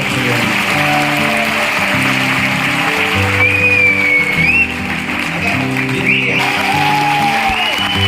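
Loud applause from an audience at a network marketing meeting, steady clapping with background music and a few whistles running throughout.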